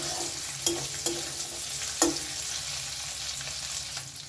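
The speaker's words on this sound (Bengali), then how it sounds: "এগুলো দিয়ে ভালো করে একটু ভেজে নেব যাতে পেঁয়াজ এবং রসুনের কাঁচা গন্ধটা" Onion, garlic and cashews frying in a pan for Afghani paneer, a soft continuous sizzle with a few sharp utensil clicks against the pan, close but fairly quiet, with no voices.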